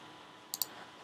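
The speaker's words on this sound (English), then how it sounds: "You just want to click the opposite" Two quick, crisp mouse clicks close together over faint room hiss, made while selecting puzzle pieces in Cricut design software.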